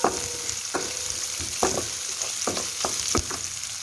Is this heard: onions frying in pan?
yes